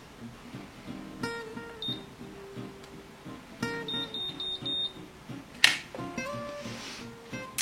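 A Babyliss Curl Secret hair curler gives short, fairly clear electronic beeps to signal that the strand can be released, heard over soft background music.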